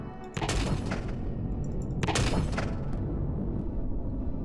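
In Empyrion Galactic Survival, railguns fire at a fortress. Two heavy, booming blasts come about two seconds apart, each followed by a dense rumbling wash that carries on between and after the shots.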